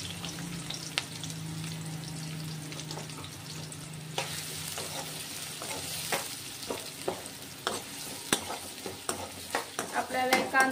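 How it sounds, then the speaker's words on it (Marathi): A chopped onion fries in a pan until golden brown, giving a steady close sizzle broken by repeated scraping and stirring clicks that grow denser and louder toward the end. "आपल्याला कांदा चांगला तळेपर्यंत, गोल्डन ब्राउन होईपर्यंत तळून घ्यायचंय."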